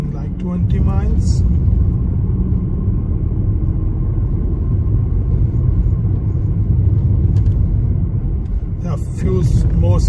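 A car drives slowly over speed humps on a driving test route: a steady low engine and road rumble fills the cabin throughout, with someone talking over it at the start and end.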